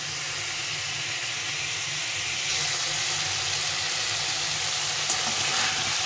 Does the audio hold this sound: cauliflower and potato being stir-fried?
yes